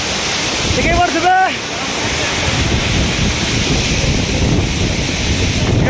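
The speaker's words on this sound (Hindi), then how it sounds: "क्या मस्त वाटरफॉल अच्छे पिलाने।" The Khambeswari waterfall roars as a steady, loud broadband rush close by, and a brief birdlike chirp rises over it near the start.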